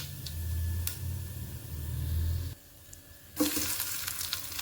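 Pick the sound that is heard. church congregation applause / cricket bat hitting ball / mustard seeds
mustard seeds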